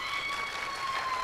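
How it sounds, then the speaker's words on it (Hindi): Brief audience applause at an Islamic quiz show, a steady wash of clapping from a crowd, moderately loud and unbroken. "बहुत सारी तालियां हो जाए।"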